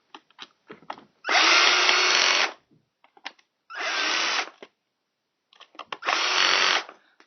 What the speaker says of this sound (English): Madman with a drill.